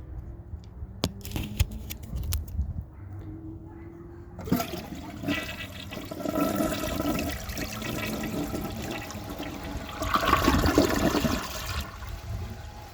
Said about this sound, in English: So I'm going to set this back up and give it another flush.